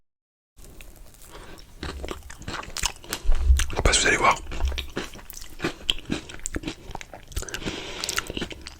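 Crisp bites and crunching into the shell of a layered trompe-l'oeil dessert, several sharp crackles and chewing sounds close up, with soft speaking in between.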